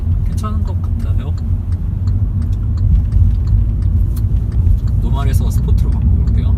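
A Hyundai Veloster with a 1.4-litre turbocharged engine drives along, giving a steady low engine and road rumble inside the cabin while someone talks over it.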